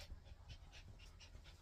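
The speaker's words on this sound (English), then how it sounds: "My dog is trying to climb me like I'm a ladder." A dog pants nearby in quick, rhythmic breathy huffs, faint and steady against a low indoor background hum.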